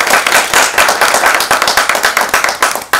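A press event audience applauds after a performance on Shilpa Shetty's show, giving loud, close, rhythmic hand clapping that swells in uneven waves and stops abruptly near the end.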